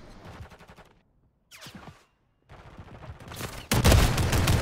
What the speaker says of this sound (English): Oh, he's coming in with a shotgun